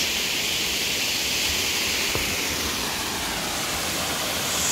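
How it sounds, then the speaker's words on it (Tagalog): Phantom Falls near Lorne, a waterfall pouring in a steady, dense roar of rushing water, loud and continuous with no break and no voices. "Look at this waterfalls here."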